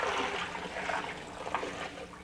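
Water pours from a pot into a set kettle, making a continuous splashing, gurgling stream at moderate loudness with no one talking.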